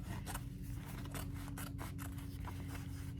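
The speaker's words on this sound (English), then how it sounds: "I'm just gonna cut around that seam" Scissors cut through old denim jeans around the seam in a run of close, crisp snips and rasping slices. The cuts repeat irregularly over a low steady hum, with no talk.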